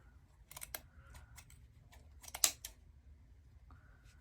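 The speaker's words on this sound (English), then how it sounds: "Going right in the center with your scissors and making sure you have all those loops cut." Several short, crisp snips of scissors cutting through ribbon loops, irregularly spaced with a louder cluster in the middle, close by and without talk.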